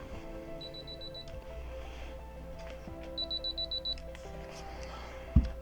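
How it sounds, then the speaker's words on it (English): Two quick runs of short, high electronic beeps from a Canon AE-1 Program film camera's battery check, several pips each, close up, ending with a soft click. "It beeps a few times, and as long as it's beeping multiple times, then you know that the battery is good."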